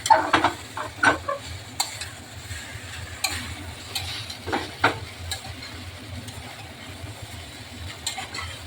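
Noodles fry in a pan over a high gas flame while being stirred, with a quiet background sizzle and repeated sharp scrapes and taps of the utensil against the pan, close by and without speech.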